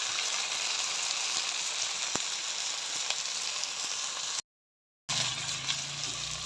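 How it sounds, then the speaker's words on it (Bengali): Meat sizzles and fries steadily in a hot pan for a Bengali chicken curry, a loud continuous hiss with faint crackles that cuts out briefly near the end and then resumes. "ভালো করে মাংসটা কষিয়ে নিব।"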